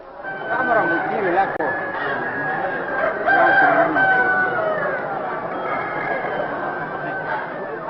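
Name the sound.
roosters at a cockfight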